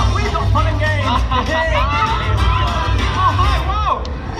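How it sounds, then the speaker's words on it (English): An outdoor family crowd at a jungle-themed theme park show claps and cheers for volunteers, with whoops, children's shouts and babble mixed in, loud and sustained throughout. "Let's give our volunteers a very big round of applause."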